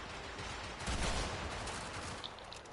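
Akstiletto dual machine pistols firing in a Warframe Conclave match, a fairly faint, fast stream of gunshots with a brief louder burst in the middle and a few sharp ticks near the end.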